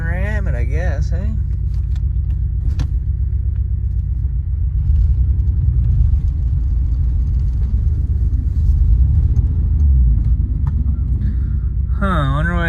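A red Toyota Supra, an old car, rumbling with a deep low engine note that swells as it revs in the middle, with people talking over it at the start and end.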